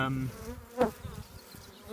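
Honeybees in an open hive during a queen substitution give a brief, quiet buzzing hum with one sharp knock partway through.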